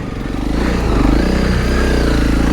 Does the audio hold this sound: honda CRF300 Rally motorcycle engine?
yes